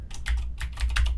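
Quick clatter of typing on a computer keyboard while entering text into a Word document, a short run of close, crisp keystrokes with no voices.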